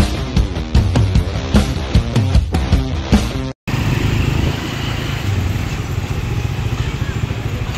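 A fruit delivery motorcycle that ran out of gas starts after being pushed a long way, its engine idling and revving steadily after a brief cut. Music with beats plays loudly before the engine takes over.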